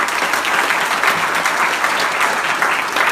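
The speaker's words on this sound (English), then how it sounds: "give everybody a round of applause" A roundtable audience claps together in a dense, continuous burst of applause, fairly loud and even from start to finish.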